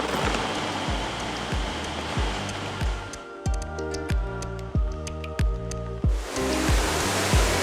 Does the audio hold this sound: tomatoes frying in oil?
no